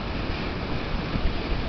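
Ocean waves surge against the rocks of a tide pool at Cabrillo National Monument, heard as a steady, loud wash of broadband roar with slight swells and no voices.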